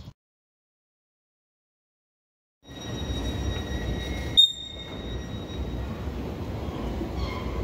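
A Thameslink train at London Bridge station in London rolls through with a broad rumble and high, sustained wheel squeal, starting abruptly after near silence and staying loud and steady with a brief clank midway.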